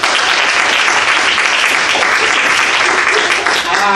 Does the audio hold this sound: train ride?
no